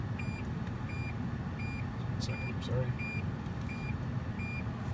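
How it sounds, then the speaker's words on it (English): Regular high electronic beeps from a Toyota's parking sonar repeat steadily over a low engine rumble inside the vehicle, with a few brief spoken words near the middle. "what you're hearing is the ICS, the Intelligent Clearance Sonar"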